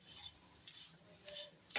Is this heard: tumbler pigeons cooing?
no